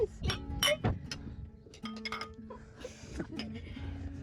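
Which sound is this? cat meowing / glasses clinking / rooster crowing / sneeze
glasses clinking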